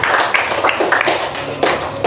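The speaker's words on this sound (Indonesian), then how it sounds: "Mari kita tepuk tangan untuk kita semua." A class of students claps together in an Indonesian school classroom, giving a loud, close burst of brisk hand claps that stays steady for about two seconds, with no speech over it.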